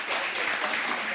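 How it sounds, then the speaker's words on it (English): A room of guests at an evening event applauds for a woman on the team, a short, steady burst of clapping from close by filling the whole moment. "I just want to give her a round of applause"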